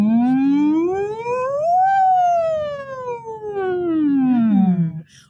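A single voice imitates an ambulance siren as a vocal warm-up, one smooth sustained glide rising in pitch then sweeping back down over about five seconds, close and loud, with no other sound around it.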